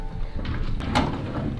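A door opened during a toy scavenger hunt in a house, giving a brief creak and knock at close range amid room noise.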